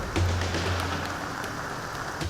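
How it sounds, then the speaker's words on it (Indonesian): Heavy rain pours steadily on a jungle camp in the Aceh highlands, a dense continuous wash with a low hum near the start. "Kondisi cuacanya lagi hujan banget"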